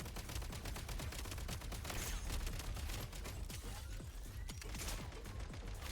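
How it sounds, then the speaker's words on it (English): Grenade launcher firing in a video game: dense, continuous rapid bursts and blasts fill the whole stretch at a steady loud level, with no speech over them. "Yeah, that's just a grenade launcher."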